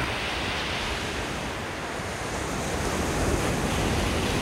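Rough sea waves off Jeju Island roar in a constant, loud wash of surf with some wind, no voices present.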